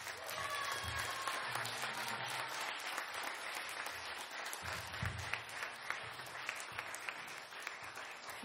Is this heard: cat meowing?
no